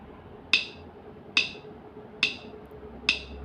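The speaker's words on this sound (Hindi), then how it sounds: "तो मैं अभी स्टार्ट कर रहा हूँ मेट्रोनोम।" Metronome ticking steadily at 70 beats per minute, four sharp, evenly spaced clicks standing out alone against a quiet background.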